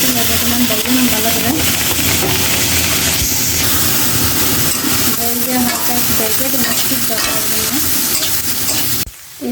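Chopped taro leaves and kharkon frying in a pan, a loud continuous sizzle with stirring scrapes throughout that cuts off abruptly near the end.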